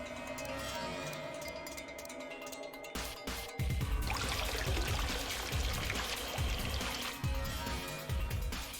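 A container fills with water in the video game Virtue's Last Reward, a sustained splashing pour with gurgling bursts and uneven pulses, fairly loud over steady ambient game sound.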